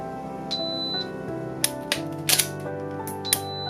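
A shot timer gives a clear electronic start beep during a dry-fire pistol drill, followed by several sharp mechanical clicks and a second beep near the end.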